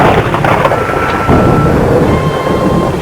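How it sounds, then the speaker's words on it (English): Thunder rumbling in a gathering storm outside a large, gloomy house, a steady low roar with a faint tonal line running through it, heard alone without voices. "In the distance, the first faint rumble of approaching thunder was heard."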